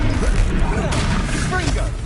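Confringo fire blast spell cast in Hogwarts Legacy: a loud, rough burst of crackling, whooshing noise with muffled impacts, heard under a voice calling out during a fight.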